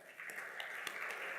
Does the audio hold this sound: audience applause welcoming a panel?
yes